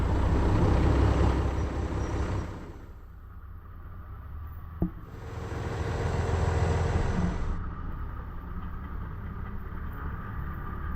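A truck engine hauls a load of 700 hay bales, with a heavy low rumble that eases into idling, a sharp air-brake-like click midway, then engine noise building again, alone with no talk.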